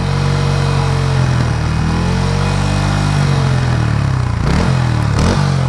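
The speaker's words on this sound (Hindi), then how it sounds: "ये जो आती है ना भाई छन छन वाली जो आवाज़ आती है, ये इसके अंदर से आना स्टार्ट हो जाती है" A Bajaj Pulsar N150 motorcycle engine runs steadily at high RPM with a constant loud drone and a metallic rattling clatter from inside the engine, ending with a couple of brief revs.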